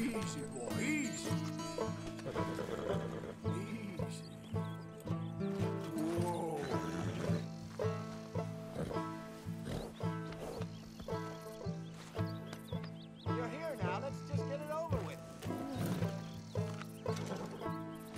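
Hooves clip-clopping from a horse in the video game Red Dead Redemption II, running steadily for the whole stretch beneath music and game sounds, with the odd voice and snort in the mix.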